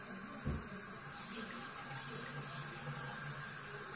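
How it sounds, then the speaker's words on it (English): Warm tap water runs steadily while dreadlocked hair is being washed, a soft, even splashing hiss with a brief thump near the start. "Warm water."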